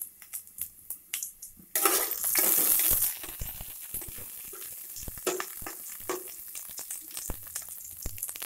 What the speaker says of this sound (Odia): କଞ୍ଚା ଲଙ୍କା ଦୁଇଟା ପକେଇଦେଲି